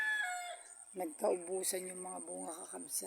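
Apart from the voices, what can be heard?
rooster crowing in the morning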